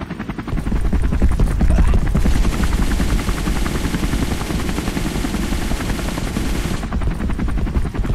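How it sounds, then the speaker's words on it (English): Uzi fire in a horror video game, a loud, dense rapid rattle of automatic shots sustained for several seconds over a low rumbling game backdrop, with no talking. "I always wanted an Uzi, thanks Santa."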